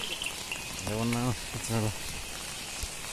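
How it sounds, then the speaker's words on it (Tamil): Heavy rain pours steadily over a cardamom plantation in Idukki, a dense hiss of drops filling the background while someone speaks briefly over it. "இந்த பக்கம் கனமழை அதிகமாக இருக்குது, சவுண்டு அதிகமாக இருக்குது"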